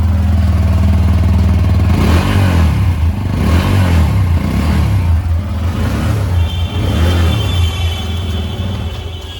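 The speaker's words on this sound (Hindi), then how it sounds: "आपको इसका एग्जॉस्ट साउंड सुनाते हैं।" A TVS Apache RTR 160 2V motorcycle exhaust revs loudly and close by, its deep throaty rumble swelling and easing in repeated throttle blips over a steady idle.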